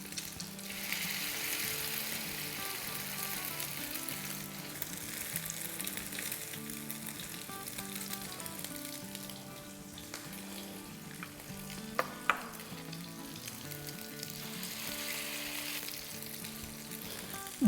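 Kebabs or cutlets fry in an oil-filled pan for a Hindi-Urdu home recipe, giving a steady, close sizzle that runs unbroken for the whole stretch, with a few sharp pops near the end and no voices.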